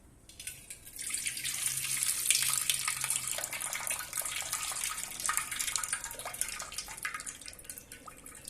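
Water pours steadily from a vessel onto tamarind in a bowl to dissolve it, a continuous close splashing trickle lasting several seconds with no voices.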